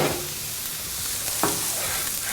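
Metal scraper pushing leftover cooking oil across a hot Blackstone flat-top griddle, giving a steady broadband sizzle with a few brief scraping strokes, close and fairly loud, with no voices.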